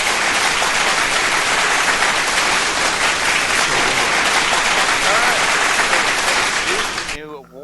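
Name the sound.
applause sound effect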